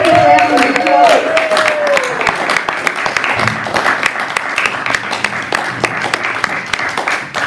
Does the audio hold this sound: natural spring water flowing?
no